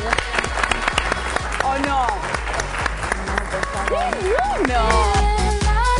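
Studio audience on a Spanish-language fashion show applauds the winner, with brisk clapping mixed with music and voices talking and shouting over it.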